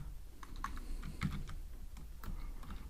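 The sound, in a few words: typing on a computer keyboard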